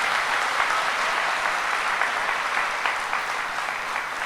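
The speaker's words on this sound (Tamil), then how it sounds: "நம்ம அத்தனை பேரும் கைத்தட்டல் மூலமாக நம்முடைய வாழ்த்துக்களை தெரிவிச்சுக்கணும்" An audience at a Tamil Nadu event applauds to congratulate gymnast Sneha, a dense, steady wash of clapping that holds evenly from start to finish.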